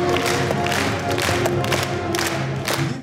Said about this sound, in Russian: Такие громкие аплодисменты в тот вечер звучали и для победителей фестиваля «Помним, гордимся, верим».